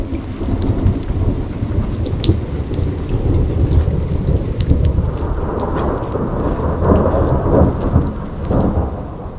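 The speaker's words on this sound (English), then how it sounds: "Couple severe thunderstorms heading through here tonight, but thankfully none of them have hit us directly" A severe thunderstorm near a wooded campsite at Pedernales Falls State Park, Texas: steady heavy rain pattering on surfaces with rolling, rumbling thunder throughout, loud and close, no voices.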